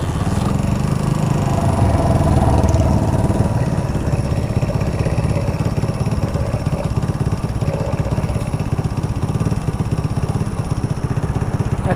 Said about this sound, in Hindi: मैं इस बाइक को आपको स्टार्ट करके दिखाता हूँ।